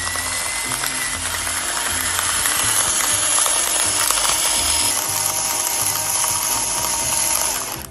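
A Breville electric salt mill grinds Himalayan salt with a steady, close, whirring mechanical grind that runs without a break for several seconds, and no one speaks.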